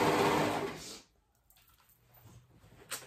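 A sewing machine stitching fabric for a dog hoodie runs in a fast, loud whir for about a second, then stops, leaving quiet handling noises and a small click.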